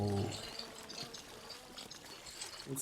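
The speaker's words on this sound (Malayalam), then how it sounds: "വെള്ളത്തിന് നല്ല ഡീറ്റെയിലിങ് കൊടുത്തിട്ടോ അവന്." Water in the open-world video game Wilderless gives off a faint, continuous trickling and pouring ambience, quiet and steady throughout.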